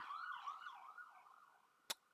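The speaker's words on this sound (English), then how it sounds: "I live in a siren-filled area now" Emergency vehicle siren outside in a city neighborhood, a faint wavering wail drifting in from a distance, quiet and steady, ending with a brief sharp click.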